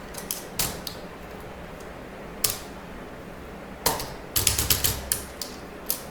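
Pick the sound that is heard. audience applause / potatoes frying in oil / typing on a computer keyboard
typing on a computer keyboard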